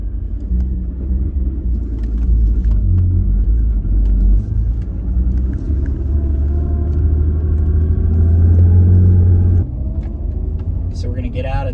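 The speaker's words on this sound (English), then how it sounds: "Blip the throttle and then just take off." A car with a manual gearbox pulling away in first gear after a throttle blip, heard from inside as a loud, steady low engine rumble that builds and then eases, with faint talk underneath.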